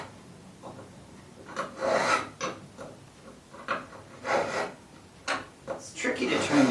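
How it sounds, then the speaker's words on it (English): A hand file rasps along a length of wire held in a groove, cutting a taper in repeated short strokes with uneven pauses between them, close and moderately loud. "what you want to do is you want to rotate it as you file and kind of push it up the groove to create the taper that you need"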